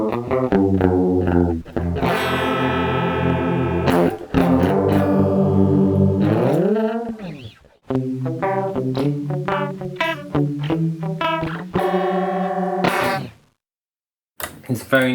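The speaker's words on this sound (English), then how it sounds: "I really like the chorus on this one." An electric guitar played through an Amiga 500 chorus effect plays sustained chords and notes with a shimmering, warbly modulation, a swooping pitch bend and a brief silence near the end.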